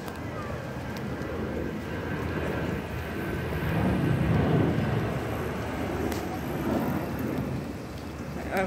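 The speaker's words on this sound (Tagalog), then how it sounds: "Ay, may aeroplano." An airplane passes overhead on an outing at Mall of Asia, a broad low rumble that swells toward the middle and eases off, with faint outdoor wind-like noise throughout.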